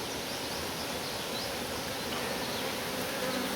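A dense, steady buzz of many honeybees fills the space, continuous and close, with no other sounds.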